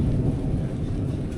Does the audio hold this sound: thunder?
yes